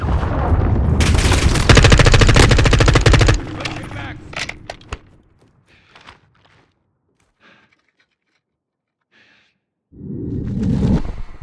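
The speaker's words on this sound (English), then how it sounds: "Friendly cruise missile approaching target." A cruise missile strike lands in Call of Duty: Modern Warfare II, a loud roaring burst of rapid gunfire and explosive rumble that cuts off. Scattered clicks and faint footsteps follow in near silence, then another heavy rumbling blast swells at the end.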